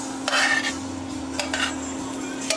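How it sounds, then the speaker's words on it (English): Cooked onions are scraped from a utensil into a pot of broth for French onion soup, giving a few brief clatters and scrapes over a steady low hum. "Now I'm going to put the onions right into the broth."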